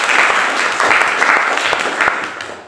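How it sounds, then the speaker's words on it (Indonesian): A classroom group applauds students during an economics teaching-practice session, a brisk burst of clapping that holds steady, then tapers off at the end. "Tepuk tangan buat kalian semua."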